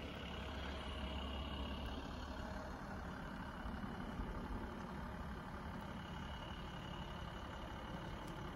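A bus idles nearby on a snowy day, a low, steady engine rumble with faint background hiss and no talk.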